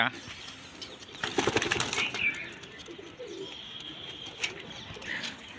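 Kept domestic pigeons beat their wings in a burst of rapid flapping near the start, then coo softly in low murmurs, with occasional voices talking nearby.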